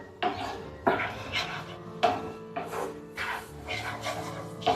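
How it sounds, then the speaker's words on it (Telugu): A spoon scrapes and clanks against a pan as yogurt is stirred into a green masala egg curry, producing a series of sharp irregular knocks with softer scraping between them, close and clear. "పెరుగు బాగా కలిసే వరకు కలుపుకుందాం"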